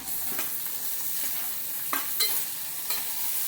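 Tomatoes for spicy noodles sauté in a pan over a soft, continuous sizzle. Occasional light scrapes of a stirring spoon come through, quiet and close, with no talking.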